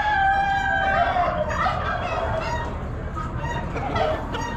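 Young laying pullets cluck among other fowl at a busy Amish livestock auction, steady overlapping bird calls filling the air close by, with a mixed crowd murmur underneath.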